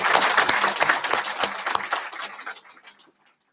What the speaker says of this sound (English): Why don't you guys give her another round of applause?